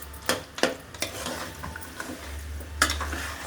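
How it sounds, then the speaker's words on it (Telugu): Ginger and garlic sautéing in a pan, a soft steady sizzle under repeated sharp scrapes and taps of a spoon stirring against the pan, close up. "ఇది అల్లం వెల్లుల్లిపాయల కొంచెం మగ్గాలి"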